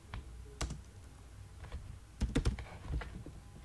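Quiet, close keystrokes on a computer keyboard while HTML code is typed, irregular clicks in small clusters with brief pauses between them.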